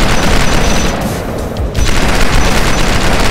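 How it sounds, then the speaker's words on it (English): Steady, dense gunfire from a gun in the video game Starforge fills the clip, loud and continuous apart from a brief dip in the middle, with no pauses between individual shots. "you're firing that gun that shot like a bullet per second"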